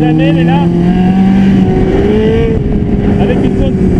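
A motorcycle ridden hard and sportily on roads in Mayotte, its engine note rising and falling in sharp shifting tones, close and loud with steady wind rush beneath.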